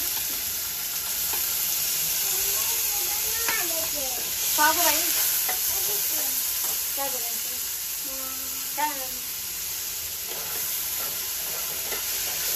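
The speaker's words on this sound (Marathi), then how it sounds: "आता आपण छान असा कांदा परतून घेऊया." Finely chopped onion sautéing in a pan with curry leaves, bay leaf and Kashmiri red chili: a steady, close sizzle with occasional stirring, while a voice talks over it.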